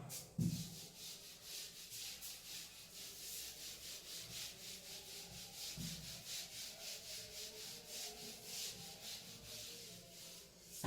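Writing is rubbed off a board with quick, steady back-and-forth swipes, making a faint, rhythmic scratchy rustle that continues throughout at close range, with a couple of soft bumps and no talk.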